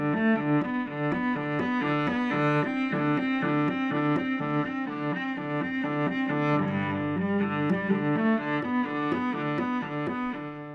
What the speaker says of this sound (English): The accompaniment sounds like this.